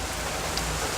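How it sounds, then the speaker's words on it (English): Heavy rain pours down outdoors as the skies open, a dense, steady hiss of drops filling the short moment without any voices. "The skies have just opened and it is raining."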